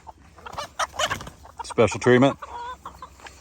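Chickens cluck and squawk close by in short bursts, with a person speaking briefly among them.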